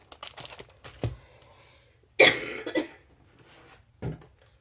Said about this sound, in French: Je crois que je tousse aussi parce que j'ai chaud